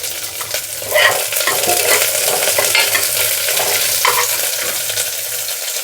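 Ginger, onions, green chillies and curry leaves frying in ghee, a loud, close, continuous sizzle with stirring scrapes throughout and no voices.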